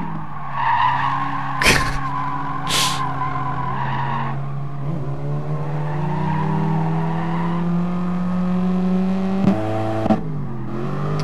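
A car in a racing video game brakes hard and skids, tires squealing loudly over a droning engine whose pitch sweeps down and back up, with a couple of sharp knocks along the way.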